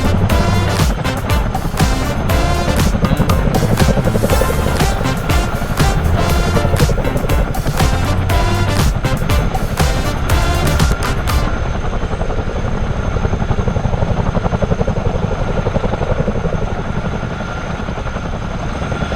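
A CH-47D Chinook twin-rotor helicopter in Microsoft Flight Simulator roars loud and steady, its engines whining under a rapid rhythmic rotor thump that drops away partway through, leaving a constant dense engine drone.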